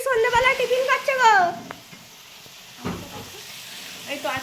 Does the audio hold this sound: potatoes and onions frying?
yes